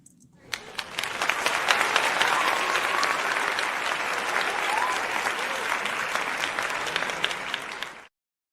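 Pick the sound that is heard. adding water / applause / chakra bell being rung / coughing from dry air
applause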